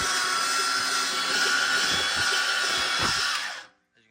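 A car motor in a MK2 Escort burnout esky build is turned over: a loud, steady cranking drone with faint rhythmic knocks runs for about three and a half seconds, then cuts off abruptly into silence.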